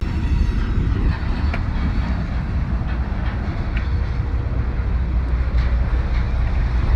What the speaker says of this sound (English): While I'm waiting for this train to pass by